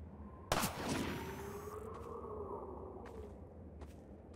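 A single sharp gunshot in Half-Life 2 cracks out and then a long whooshing, rumbling tail decays over several seconds, with a few faint clicks and thuds afterward.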